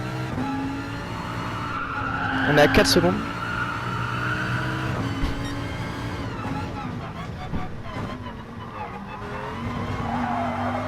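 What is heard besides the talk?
Mazda race car sliding, tires skidding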